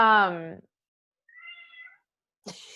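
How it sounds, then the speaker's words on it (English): A cat gives a single short meow in a quiet room, falling between a voice before it and another brief voice after. "My cat's coming to say hi."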